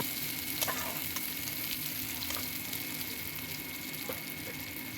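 Onions and green chillies frying in oil in a pan, a steady close sizzle with occasional light clicks and scrapes of stirring throughout, nobody speaking.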